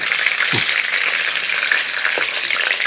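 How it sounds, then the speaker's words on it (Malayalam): Bay leaves frying in hot ghee give a steady, close crackling sizzle, with a couple of soft low bumps from the pan. "നെയ്യൊക്കെ അത് ചൂടായ ശേഷം രണ്ട് ബേലീഫ് അങ്ങോട്ട് ഇട്ട് കൊടുക്കുക"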